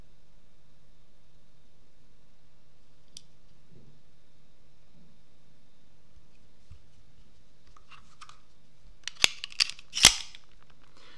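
Walther PP Sport .22 LR pistol magazine handled, giving a few sharp metallic clicks and snaps clustered near the end after a long quiet stretch, close and fairly crisp.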